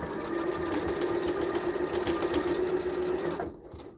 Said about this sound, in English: I am going to do some reinforcement stitching here.